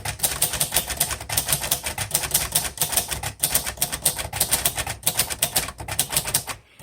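Fast, flowing typing on a 1957 Royal Quiet De Luxe manual typewriter: crisp, rapid key strikes in an even rhythm, close up and loud, with brief pauses and a final thunk near the end.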